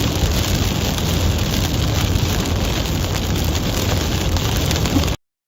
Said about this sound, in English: Now all I'm going to get is just rain.